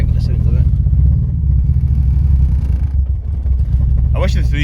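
A rough-running, heavily modified three-cylinder car engine rumbles loud and close with an uneven, lumpy throb and a rattle of something loose at the back, then a voice speaks briefly over it near the end.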